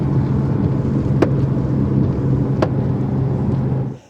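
Inside a car in a rainstorm, a windshield wiper strikes the window pillar, giving two sharp knocks a little over a second apart over a loud, constant rumble of rain and road noise.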